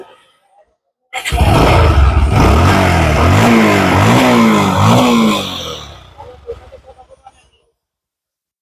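A Bajaj Pulsar 150cc double-disc motorcycle starts up loud and close, then revs hard in several rising and falling swells before easing back and cutting off.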